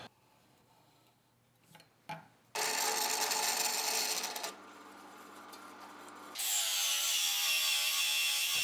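Stainless steel mounting tabs being sawn and ground in a workshop, quiet handling at first, then loud bursts of harsh abrasive grinding and sawing in stretches.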